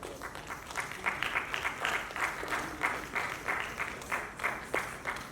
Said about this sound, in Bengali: সবাই একবার জোরে হাততালি দিন।